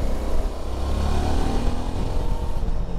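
A Suzuki V-Strom 650 motorcycle engine revs hard while riding, a loud, gritty roar with a rising, pulsing tone and wind rush, with no talk.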